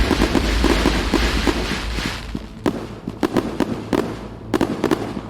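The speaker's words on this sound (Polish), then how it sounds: "Przepiękne te fajerwerki, naprawdę." Fireworks burst in the video game Fireworks Mania, opening with a dense, crackling barrage and then giving way to a rapid series of separate sharp pops and bangs, loud and close, with no talking.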